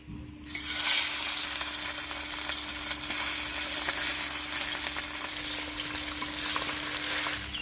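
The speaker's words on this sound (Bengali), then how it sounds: "রুই মাছগুলো প্রথমে ভেজে নিচ্ছি" Rohu fish pieces fry in hot oil, a loud sizzle that bursts in suddenly and then holds as a steady, bright crackle with occasional light stirring.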